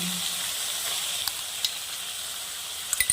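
Poppy seed paste frying with onion and chilli paste in a pan: a soft, steady hiss and sizzle close by, with a few light taps and clinks toward the end and no talk.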